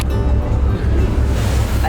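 Ocean waves splash against a boat at night on a Pacific Islands crossing, a loud, close rush of water and wind buffeting the microphone, with voices talking underneath.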